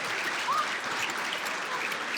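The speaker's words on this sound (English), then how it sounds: "I think that deserves another round of applause" Audience applause at an awards and scholarships ceremony, a steady wash of many hands clapping in a hall for a couple of seconds, with a brief faint voice.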